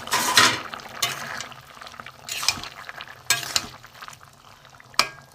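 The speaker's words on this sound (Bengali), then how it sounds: "ভেজে রাখা, আগে থেকে ভেজে রাখা উচ্ছেগুলো দিয়ে দিলাম।" Pre-fried bitter gourd is stirred in a pan for Bengali cucumber shukto with mustard paste, giving a few scraping, clattering stirs over a soft background sizzle, close and fairly loud with pauses between strokes.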